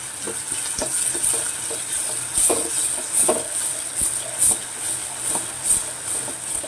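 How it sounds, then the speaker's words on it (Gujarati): Onions cooking in a pan with a little salt for a puffed-rice snack, a steady close sizzle punctuated by regular spatula scrapes and taps against the pan, with no voices. "થોડી નિમક એડ કરી દો એટલે ફટાફટ ડુંગળી ચડી જાય."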